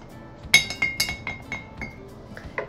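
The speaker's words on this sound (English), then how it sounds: "I'm gonna take the back of my spoon and mix that up" A metal spoon taps and clinks against a glass container while stirring colouring into it, giving a series of bright, close chimes in an irregular rhythm, loudest near the start and gradually softening.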